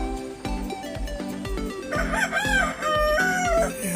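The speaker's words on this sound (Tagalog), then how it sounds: "Nagtitilawan ng mga manok. Madaling araw na." Several roosters crow at daybreak near a chicken coop, their calls loud and overlapping, rising in the second half over a steady pulsing background beat.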